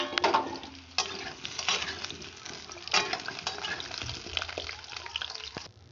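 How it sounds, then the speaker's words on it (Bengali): Potatoes fry in hot oil in a wok with a close, crackling sizzle, and a few sharp bursts as they are stirred, each fading back into a steady hiss. "আমি প্রথমে একটু ভেজে নেব।"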